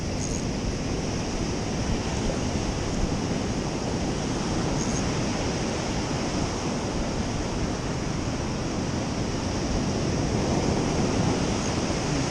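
Ocean surf rolls and breaks on a beach at night, a steady broadband wash of waves heard close and loud without pause or voices.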